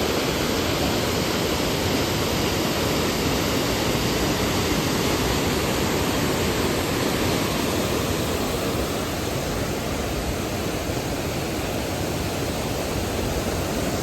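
A waterfall in New Zealand's Northland gives off a steady, unbroken rushing roar of falling water, even and continuous from start to finish with no voices.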